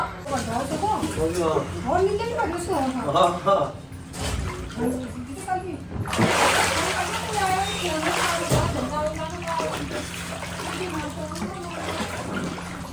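Water splashing and sloshing in a homemade rooftop swimming pool, heard close with bursts of splashes and running water under excited children's and adults' chatter.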